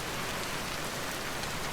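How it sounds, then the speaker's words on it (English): Steady rain in the video game Vintage Story, a dense continuous hiss of drops falling on surfaces, even and unbroken throughout with no voices. "It sounds like it's raining"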